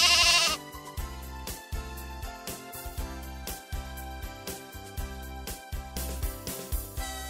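A single loud sheep bleat at the start, followed by a bouncy musical backing with rhythmic plucked notes.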